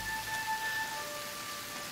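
Rain falls in the Tomb Raider video game, a faint, steady hiss of drops hitting surfaces that stays even throughout, with a thin high tone in the background.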